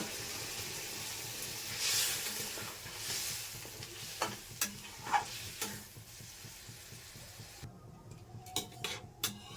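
Fried potatoes tipped into a pan and stirred while cooking, a soft hiss and sizzle with a swell near the start, then quiet scrapes and clinks of a utensil against the pan, faint and close.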